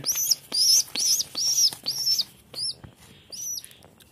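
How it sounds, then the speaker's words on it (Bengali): A pet pigeon chick kept indoors gives a series of high, squeaky chirps, about eight short repeated calls close by with brief gaps between them. "আমার এই পোষা কবুতরের বাচ্চাকে আমি আমার রুমে রাখি"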